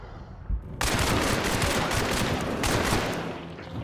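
Gunfire in Hunt Showdown 1896: a sudden loud burst of rapid shots breaks out after a brief quieter moment and continues as dense, sustained firing for a few seconds, with no talk.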